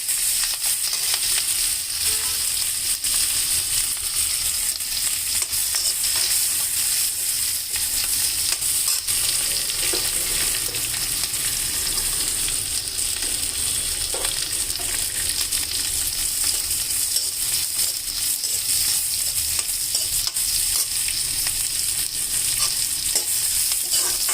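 Green chilies fry in a pan with a steady, loud sizzle that runs on and on, broken now and then by the scrape of stirring.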